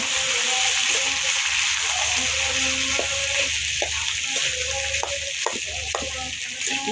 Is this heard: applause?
no